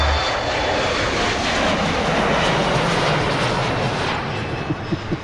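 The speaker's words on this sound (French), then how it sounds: "Ça décolle, mon ami. C'est le son d'un jet privé." A private jet takes off, its loud, steady engine roar filling the whole stretch without a break and swelling slightly near the end.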